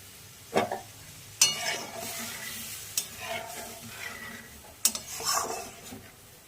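Pholui fish curry bubbles in a pot as a spoon stirs and scrapes through it, with a few sharp clanks against the rim and a steady low sizzle underneath, close and fairly quiet.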